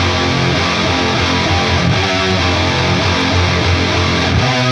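Thick wall of stacked distorted metalcore guitars chugging low with a higher octave layer on top, loud and continuous with no vocals.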